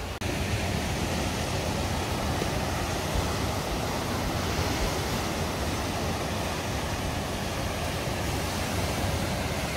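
Waves at a rocky beach make a steady, dense roar of surf that stays loud and unbroken throughout, with no voices.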